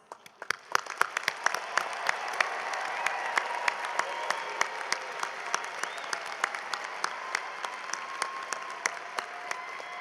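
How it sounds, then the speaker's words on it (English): A commencement audience applauds the graduating class of 2025, a broad steady wash of many hands clapping that swells quickly and holds at full strength throughout, with sharp individual claps popping out of the dense crowd noise. "join me in giving the class of 2025 a congratulatory round of applause"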